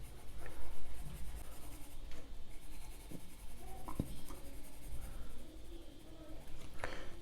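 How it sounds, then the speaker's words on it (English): Pencil shading on paper while drawing a realistic eye, a continuous close scratchy scrape with shifting pressure and strokes, a few soft taps along the way, no voices. "Apply more pressure, rotate the pencil."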